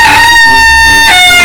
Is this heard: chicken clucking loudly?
yes